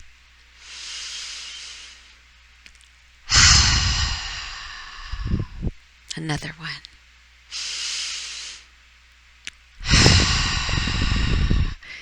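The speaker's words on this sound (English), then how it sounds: "take a couple of nice, slow breaths and notice your breathing" Slow, deep breaths during a guided relaxation exercise for young children, each long airy inhale and exhale rising and falling in a steady rhythm close to the microphone, with brief spoken words in between.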